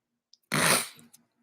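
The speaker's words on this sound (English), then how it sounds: "I don't have coronavirus, just a sneeze." A single sharp, loud sneeze bursts out close to the microphone, with a small sniff just before it and a brief trailing breath after.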